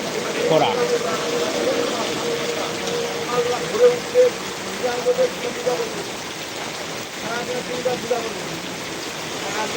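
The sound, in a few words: heavy rain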